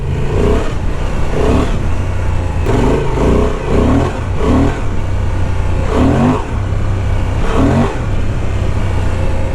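A Honda Transalp 750 motorcycle engine revs off-road, rising and falling repeatedly in loud, close surges as the bike is ridden over rough ground.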